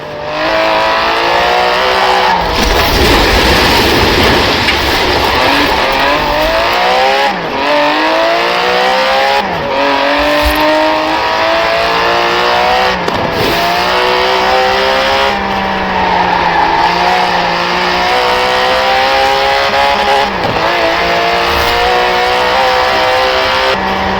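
An Aston Martin engine in the driving game Forza Horizon 4 revs loudly and continuously, its pitch rising and falling through gear changes with brief dips between shifts and occasional tire noise, close and without talk.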